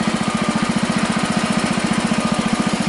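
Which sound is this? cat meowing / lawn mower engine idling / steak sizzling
lawn mower engine idling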